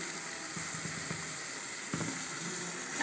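Boiled chana dal sautéing in a pan for kuzhi paniyaram, giving a soft, steady sizzle with a few faint scraping knocks from stirring, fairly quiet and continuous.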